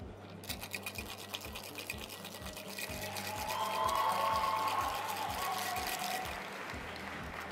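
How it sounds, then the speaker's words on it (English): A coffee cocktail with ice is shaken hard in a cocktail shaker at a coffee championship event, a fast rhythmic rattling that builds and holds for several seconds over a low background hum. "I'm going to shake this drink to get the right temperature and a very, very creamy, smooth mouthfeel"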